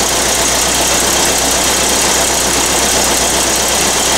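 An old Volkswagen engine with Weber carburetors, cold-started after sitting eight years, idles loudly and steadily with a rough, knocking churn that runs unbroken throughout, close up and with no voices.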